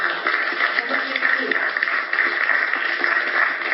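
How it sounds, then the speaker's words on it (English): Applause from an audience at a business presentation, a steady band-limited wash of clapping that carries on without a break for several seconds, with a faint chuckle and a voice mixed in beneath it. "I think For Life deserves a round of applause"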